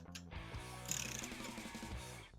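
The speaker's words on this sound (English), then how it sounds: "I'm just gonna torque the thermostat housing down to the same." A ratchet clicks in a quick, even run as a thermostat housing on a New Edge Mustang is torqued down to 18 foot-pounds, close and fairly quiet with no talk over it.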